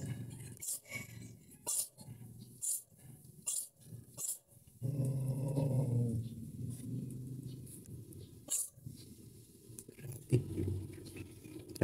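A dog growls low and continuously for several seconds, close by, between snuffling, chewing-like noises and scattered bursts of movement.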